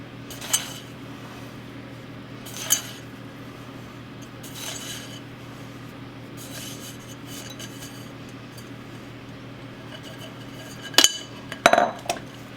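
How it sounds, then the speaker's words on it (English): Cobbler topping is scattered over peach and blueberry fruit in a baking dish, soft rubbing and sprinkling with occasional clinks of a utensil against the dish, close and moderately quiet, no speech. "we're going to scatter this over the top of our fruit."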